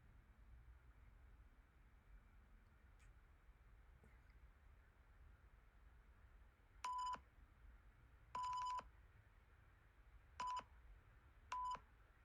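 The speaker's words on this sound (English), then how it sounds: "It looks like a 15-second beep" Four short, clean censor bleeps, edited in Final Cut Pro, sound at an even pitch over a faint background hiss, the second one slightly longer.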